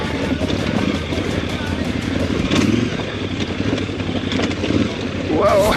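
A KTM 990 big motorcycle climbs a hill, its engine revving loud and close in uneven surges over rough-ground clatter, with a brief higher-pitched rev at the end.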